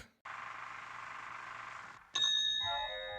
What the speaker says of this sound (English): The bell's my favorite.